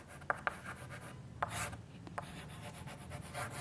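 Pen writing on paper or a board during a Class III maths lesson on subtraction: a few short, scratchy strokes in quick bursts, close and fairly quiet, with no talking.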